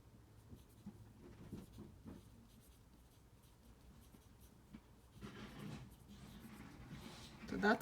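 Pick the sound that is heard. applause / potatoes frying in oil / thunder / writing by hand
writing by hand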